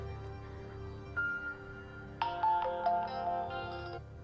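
A mobile phone plays a short text message notification tone, a bright melodic jingle of a few quick notes over faint background hum, loud and close, with no talk.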